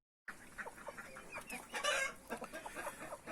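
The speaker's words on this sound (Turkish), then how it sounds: "horozlar ötüyor, tavuklar, tavuklar ötüyor" Chickens and roosters cluck and call at a farm, with a rapid string of close, moderately loud clucks and one brief louder squawk in the middle; no talking.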